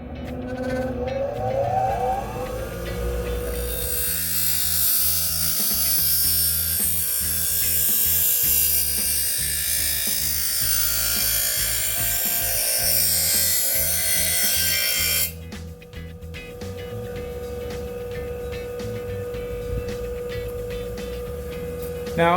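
A lawn mower blade is ground against a spinning wheel on a tool rest, giving a loud, harsh grinding rasp for about fifteen seconds that then drops to a quieter rattling motor hum.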